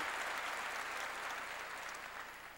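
A church congregation claps together during a sermon, a dense, steady wash of applause that holds evenly throughout before easing slightly at the end, with no voices over it.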